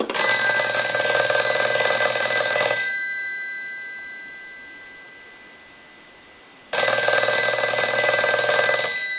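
A Western Electric 5302 rotary telephone bell rings loud and close in two long bursts separated by a fading silence, a bright metallic clangor with no voices.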